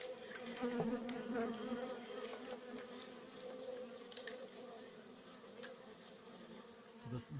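A dense swarm of honeybees and drones buzzes steadily in flight at an apiary, many insects humming together, with individual buzzes passing close by.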